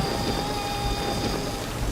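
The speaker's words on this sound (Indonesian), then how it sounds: "Pada malam itu hujan sangat deras diiringi kilauan cahaya petir menggelegar." Heavy rain pours steadily during a nighttime thunderstorm, a dense, loud hiss of falling water with a low thunder rumble underneath, unbroken throughout.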